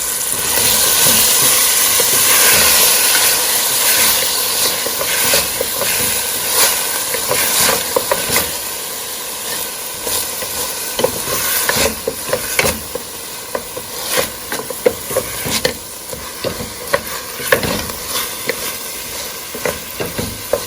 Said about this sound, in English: my ginger, I'm gonna give this a mix